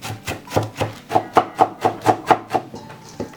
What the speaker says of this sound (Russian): Вот так собираем в руку и начинаем рубить.